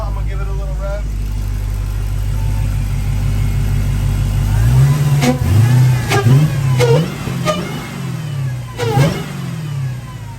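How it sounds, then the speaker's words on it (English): Chrysler 300 Hellcat V8 engine idling with its belt running, then blipped through several quick revs rising and falling, close and loud, with people talking over it. "I'm gonna give it a little rev."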